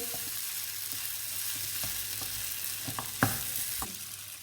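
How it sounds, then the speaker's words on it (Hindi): Spiced potatoes sauté in oil with a constant hiss of frying, broken by scattered clicks and scrapes of a spoon stirring, one sharper knock near the end, close up and without speech. "बस मकसद ये है कि पोटैटो थोड़े से जो है ना वो सौटे हो जाए ऑयल के साथ"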